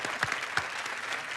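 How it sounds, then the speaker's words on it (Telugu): Studio audience applause on a TV game show, a dense steady roar of many hands clapping together, with a few louder claps rising out of it. "తన స్పోర్టివ్నెస్ కి నిజంగా మనం క్లాప్స్ కొట్టాలి"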